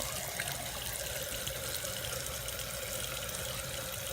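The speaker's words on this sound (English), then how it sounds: "And then I just do this over the water until all the soap is out." Running tap water pours steadily over a soapy makeup brush being rinsed clean, a continuous close splashing wash with no talk.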